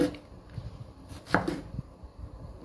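A knife cuts peeled bottle gourd into round pieces on a board, giving one crisp, clear chop among faint softer cuts in a quiet kitchen.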